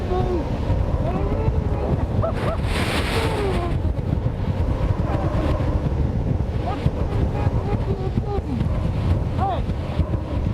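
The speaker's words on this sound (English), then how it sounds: "this is about 65, maybe 70 miles an hour worth of wind" Strong gusts of roughly 65 to 70 mph roar loudly and continuously across the microphone for the whole stretch, with buffeting rumble and a few brief tonal whistles, at a site noted for high winds.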